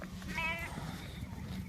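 A single sheep bleats once, a short wavering call near the start, heard over steady low background hum on a farm where sheep are kept.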